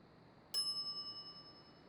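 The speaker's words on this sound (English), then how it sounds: "some idiot's already ringing that stupid bell" A single bright ding from a service counter bell in the video game The Secret of Monkey Island rings out once against quiet, its clear tone decaying over about a second.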